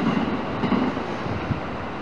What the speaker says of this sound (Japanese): 321系とハローキティ仕様の特急ハルカが通過してきたところですが